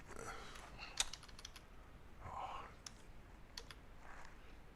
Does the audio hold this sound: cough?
no